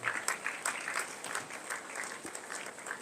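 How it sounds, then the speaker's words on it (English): A university audience of freshmen at an orientation event in Calabar gives a moderately loud, steady round of applause, dense scattered clapping filling the hall without voices. "Please, can you give her a round of applause?"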